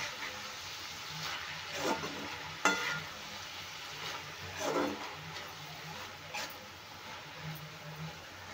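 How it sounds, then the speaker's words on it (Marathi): Salted onion and tomato fry in a pan with a soft, steady sizzle and a few gentle stirring scrapes, quiet and close. "एकदम छान असं आपलं भाजलेला आहे कांदा आणि टोमॅटो"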